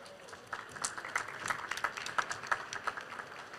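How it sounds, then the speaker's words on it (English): Scattered audience applause at a tech summit as a presenter is welcomed to the stage, fairly faint and distant, with individual claps standing out from a thin crowd wash. "please now welcome to the stage the representative of Imova with a big round of applause"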